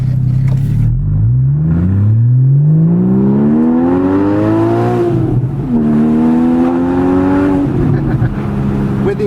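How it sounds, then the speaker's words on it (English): A Porsche Boxster S exhaust while driving: a loud, close engine note climbs steadily through the revs, dips briefly at a shift, then rises again in one continuous pull. "With the exhaust, it makes us feel like we're going 100, right? When you hear when you hear that noise."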